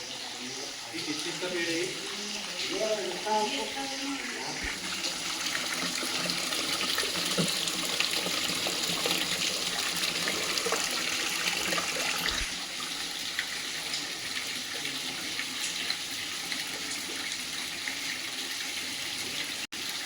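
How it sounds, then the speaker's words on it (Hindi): Streams of water flow constantly at a Himalayan temple in Uttarakhand, a steady rushing splash heard close throughout, with someone talking over it at times. "जो पानी की धाराएं जो है यहाँ पर बहती रहती हैं।"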